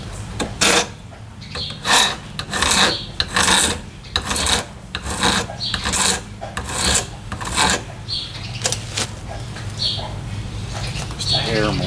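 A hand file is drawn across an axe head in regular rasping strokes, close and loud, about one stroke per half second, pausing briefly before a few more swipes, with a speaking voice partly over it.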